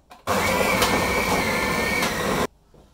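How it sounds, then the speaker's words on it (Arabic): Electric mixer whipping butter for butter cream, a steady loud mechanical whir that starts abruptly, runs about two seconds and cuts off, leaving quiet room noise. "نسدها ونخفقها إلى أن يصير لون الزبدة أبيض."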